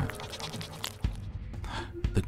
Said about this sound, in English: A ghost goat, apparently.